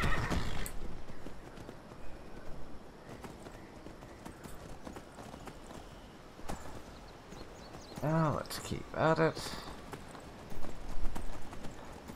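A horse in the Skyrim video game neighs twice and its hooves clip-clop at a walking pace, while someone talks over the steady in-game ambience.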